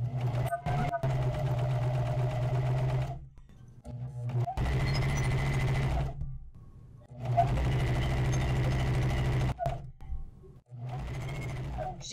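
A Janome Coverpro 2000cpx coverstitch machine sews fabric in steady rapid bursts of mechanical whirring, three long runs separated by short pauses and clicks, close and loud, with no talk over it.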